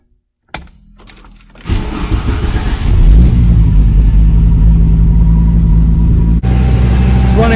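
An Audi Coupe GT with a turbo-converted engine and aftermarket fuel injection cranks and fires up, then settles into a loud, steady, slightly high rumbling idle, heard close by.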